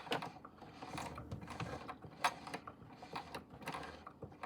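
A Singer 2273 sewing machine, jammed on the bobbin side, turned over by hand: close, soft mechanical clicks and ratcheting gear noise ticking irregularly throughout, with one sharper click partway through and no talking.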